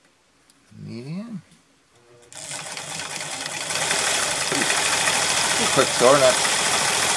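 A Montgomery Ward sewing machine running a zigzag stitch, a steady mechanical whirr that starts up partway through and holds at an even level, with someone speaking briefly before and over it.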